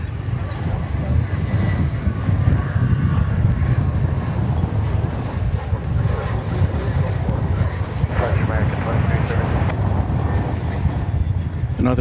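An Embraer 175 regional jet arriving at windy DFW Airport gives a loud, steady engine rumble with gusting wind buffeting the microphone throughout; a voice speaks over it.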